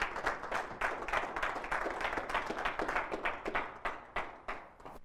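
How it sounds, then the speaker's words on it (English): An audience claps hands in a fast, even patter, a steady burst of applause lasting about five seconds, fairly faint and without talk. "Come on, give him a hand clap."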